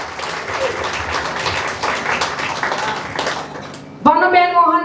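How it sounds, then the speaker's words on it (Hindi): Audience applause at a Dwarkadhish katha gathering in Coventry, UK: dense, steady clapping for about four seconds that gives way abruptly to a loud voice speaking. "बड़ी तालियों से बधाई उनको।"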